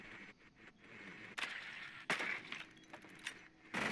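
Glass-like sights breaking in a multiplayer shooter video game, several sharp shattering crashes and clinks spaced over a few seconds amid quieter game noise.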